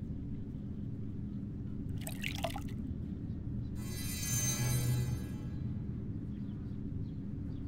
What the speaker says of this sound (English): I poured the water into the bowl.